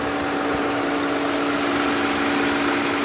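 A 2021 Ford Bronco Sport Outer Banks Edition's 1.5-liter three-cylinder EcoBoost gasoline direct-injection engine runs steadily at idle, a close, constant drone with a buzzing hum and no talking.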